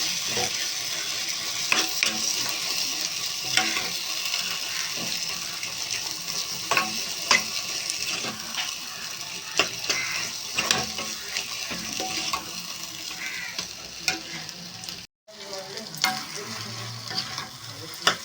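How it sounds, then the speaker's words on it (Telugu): Bitter gourd masala fries in a pan with a continuous close sizzle, while a spoon scrapes and taps against the pan in irregular strokes throughout. "ఇదైతే ఫ్రై చేసుకోవాలండి దగ్గరికి అయ్యే వరకు ఇలా ఫ్రై చేసుకోవాలండి"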